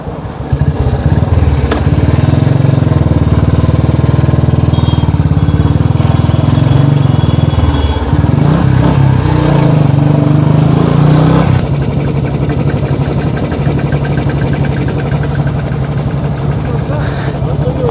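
A motorcycle that is running very hot idles loud and close with a dense, rumbling engine drone that shifts slightly in pitch, while people talk over it.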